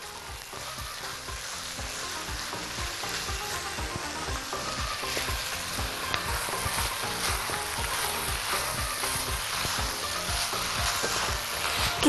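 Minced meat, onions, carrots and freekeh sizzle steadily in a hot pan as they are stirred, a continuous close frying hiss with faint scraping and no speech.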